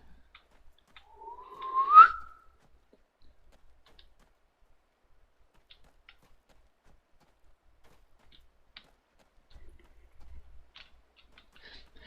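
A person whistles while breathing in: one thin, rising, wavering note of about a second, alone in near silence, followed by faint scattered clicks and soft rustling.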